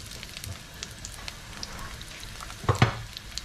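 Chopped garlic fries in a little oil in a pan for ilish fish with taro stolons, a soft steady sizzle with faint crackles, then a brief louder clatter of stirring near the end.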